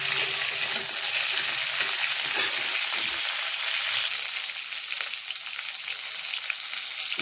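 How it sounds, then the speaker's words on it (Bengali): Cauliflower florets frying in a pan give a continuous close sizzle with soft stirring scrapes, and there is no talking. "দেখো কপিগুলো ভাজা ভাজা হচ্ছে"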